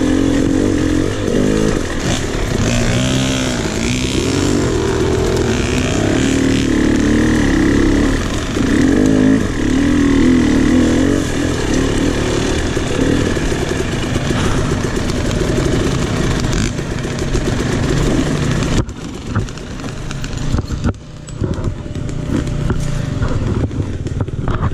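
A KTM 300 XC dirt bike is ridden on a wooded trail loop at NATRA in West Point, Tennessee. The engine is close and buzzing throughout, revving up and down as the throttle changes, with a brief lull near the end.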